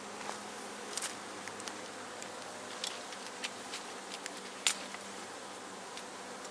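A swarm of honeybees settled low on the ground gives a steady, diffuse buzzing drone, with brief sharper buzzes from individual bees flying close past now and then.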